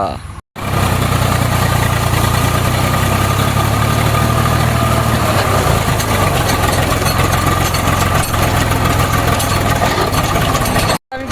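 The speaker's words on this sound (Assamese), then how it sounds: "একদম আহি গ'ল এতিয়া ট্ৰেক্টৰ" A tractor engine idles loudly and steadily close by, a continuous low rumble running throughout.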